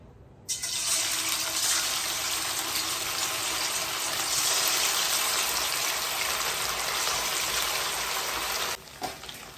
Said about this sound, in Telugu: ఆయిల్ అనేది బాగా హీట్ అయింది. మనం చికెన్ అనేది వేసేసుకుందాము